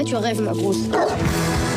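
A female dog barks and yips in short bursts close by, overlapping with someone speaking over the animal.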